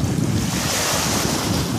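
Ocean waves at a beach, a loud continuous wash of surf mixed with heavy wind buffeting the microphone, steady throughout with no talking.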